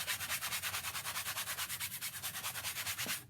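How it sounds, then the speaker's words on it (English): Sandpaper lightly sanding a stretched canvas, a quick steady rhythm of about six strokes per second, close and fairly quiet, with no talking. "I just take my little sandpaper"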